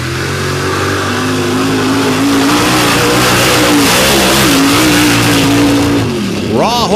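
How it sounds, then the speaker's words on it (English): A 600 cubic inch naturally aspirated big block Ford engine in a drag truck roars loud and close at full throttle, pitch climbing steadily over several seconds before cutting off, with a voice faintly over the end. "Raw horsepower, 600 cubic inches of big block Ford going to work there"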